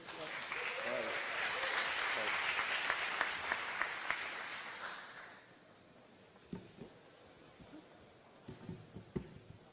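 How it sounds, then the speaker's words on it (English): Audience applause at a Cardano constitutional convention as a speaker walks on stage: loud continuous clapping for about five seconds, then fading to a few scattered claps and small sounds. "Big round of applause."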